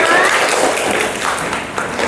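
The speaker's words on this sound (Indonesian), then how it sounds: "tepuk tangan dulu buat kalian semua" A class of students applauds during a science lesson on pressure, a dense, close burst of clapping that is loudest at first and eases slightly over two seconds, with faint voices underneath.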